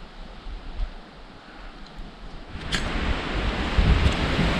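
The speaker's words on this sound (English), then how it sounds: "It's really windy out here today." Strong wind gusts across an exposed outdoor campsite on the Appalachian Trail, a broad rushing roar that swells and grows louder toward the end with no voices.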